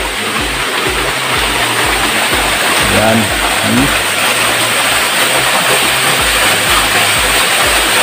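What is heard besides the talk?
mountain stream water flowing at waterfall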